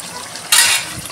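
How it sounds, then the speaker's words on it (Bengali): A short splash of a little water poured into curry cooking in a pan, a brief bright burst over the low background sizzle of the kitchen. "অল্প একটু জল দেবো"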